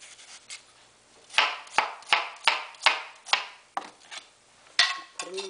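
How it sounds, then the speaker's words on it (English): A knife dicing watermelon on a cutting board, producing a run of about ten crisp, close chopping thuds at a fairly steady rhythm after a quieter start, with no voices. "just keep going until you get your watermelon all diced"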